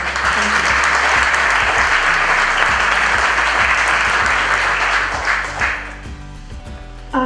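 A large crowd applauds at the opening of a mill building, loud and dense from the start. The sustained clapping thins and fades out near the end, leaving a quieter room tone.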